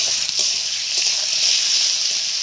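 Turmeric, ginger and cumin sizzle in hot oil in a frying pan for a fish curry with drumstick stalks, a steady, close, bright hiss with faint crackles throughout.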